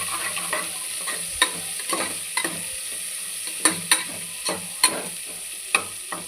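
Onions and chillies stirred and fried in a pan: a soft sizzle beneath repeated sharp clacks and scrapes of a spoon against the pan, coming in irregular bursts up close.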